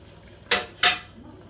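Beef goes back into a stew pot with two sharp metallic clinks about a third of a second apart, close and crisp, followed by a faint scrape.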